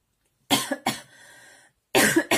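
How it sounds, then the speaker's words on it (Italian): A few close, sharp coughs break into a quiet ASMR colouring session with coloured pencils. There are two quick coughs, a short pause with a faint throaty tone, then two more coughs. "Quando faccio ASMR mi viene sempre la tosse."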